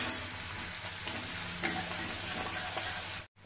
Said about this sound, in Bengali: এরপর পেঁয়াজটা খুব ভালোভাবে ব্রাউন করে ভেজে নেব।